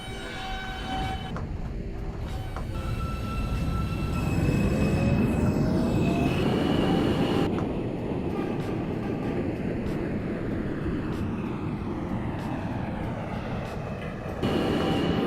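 Queens-bound subway E train running in the OpenBve game, a steady rumbling rolling roar with rising and falling motor whine tones, several abrupt cuts, and brief tonal chimes near the start.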